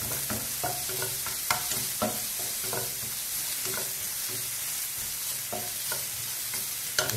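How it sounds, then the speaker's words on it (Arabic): Chopped garlic, onion and ginger are stirred together in a hot pan, with a steady sizzle broken by repeated scraping strokes of the spoon in a loose rhythm. "So we mix all together."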